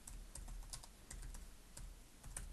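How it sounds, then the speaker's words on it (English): Quick, faint keystrokes on a computer keyboard, a short burst of irregular clicks typing a word, close by with no talk. "So let me just type the word drop shadow."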